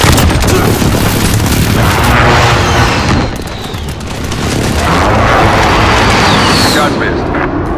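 Incoming airstrike explosions in Call of Duty Modern Warfare during a team deathmatch, loud continuous rumbling booms and blasts that dip briefly then swell again, with a dense roar filling the whole stretch.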